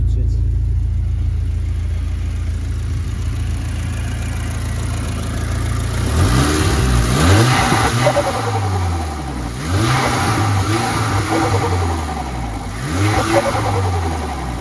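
An Audi S3 8P with a stock turbo and an aftermarket air filter idles, then revs repeatedly in rising and falling sweeps, loud and close, with brief whooshes between revs and people talking over it.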